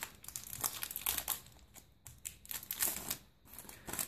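A foil Pokémon booster pack wrapper crinkles and tears in close, repeated rustling bursts as someone struggles to open it.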